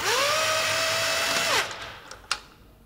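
A power tool spins a wheel bolt off an Alfa Romeo Giulia QV, a close, loud whirring whine that rises in pitch then cuts off, followed by a few small metallic clicks and clunks.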